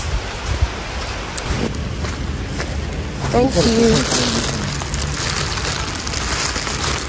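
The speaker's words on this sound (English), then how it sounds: "it's still raining by the way" Steady rain falls outdoors, a broad constant hiss heard throughout, with a brief spoken voice and some scattered thumps over it.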